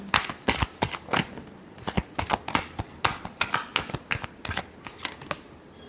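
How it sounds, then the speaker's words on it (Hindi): Tarot cards shuffled by hand, a rapid series of crisp riffling snaps and flutters in an uneven rhythm, close and fairly loud, with no voice over them. "last shuffle"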